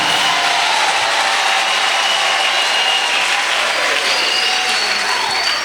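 Congregation at a church service claps loudly and continuously, a dense, even wash of applause that fills the room for several seconds with no break.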